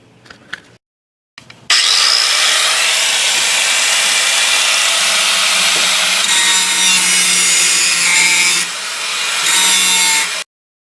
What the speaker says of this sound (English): probably the easiest way it's going to be is to grind them off